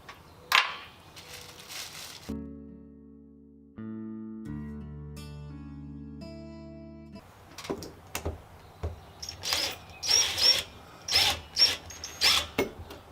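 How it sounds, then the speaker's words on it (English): A cordless power driver fastens screws into a new porch light mounting bracket, heard as several short, close whirring bursts with clicks and handling noise after a stretch of steady tonal sound. "Power drivers are so much easier."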